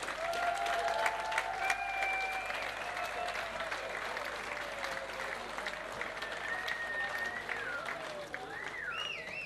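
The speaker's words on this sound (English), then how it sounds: "a huge round of applause" Audience applause at an awards ceremony, steady clapping from a sizable crowd heard at a moderate distance, with scattered whistles and cheers rising over it.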